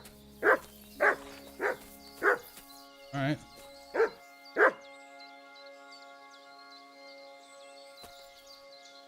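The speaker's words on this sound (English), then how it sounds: "what are you barking at?" A dog barks seven times in a steady, evenly spaced series, loud and close, then falls quiet; a person speaks briefly near the end.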